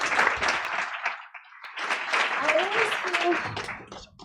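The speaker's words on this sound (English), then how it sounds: "Please give him a round of applause." Audience applause at the Start-Up Night Africa event in The Hague, 2024: a steady wash of clapping that dips briefly midway and then swells again, with voices and a few whoops mixed in.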